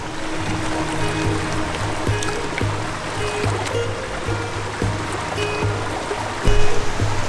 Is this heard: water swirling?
yes